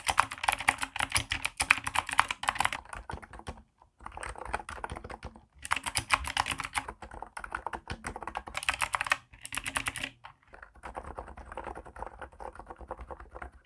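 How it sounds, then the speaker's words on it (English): Typing on an Epomaker Niz Plum Atom 68 keyboard with rubber dome and spring switches: quiet, rapid soft key clicks in bursts, separated by short pauses, heard close and alone. "silent operation of a rubber dome keyboard with the reliability and tactility of a mechanical keyboard"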